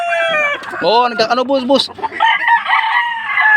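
Fighting roosters of a prized breed crow loudly several times in a yard, their long cock-a-doodle-doo calls overlapping with clucking while someone speaks over them.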